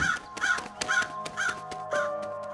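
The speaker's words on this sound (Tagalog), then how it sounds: "mabilis na nagliparang palayo ang napakaraming uwak na nakadapo sa bubungan at sa matandang puno ng santol" A flock of crows caws repeatedly near a roof and an old santol tree, five or so loud harsh calls in a quick irregular rhythm, with no voices.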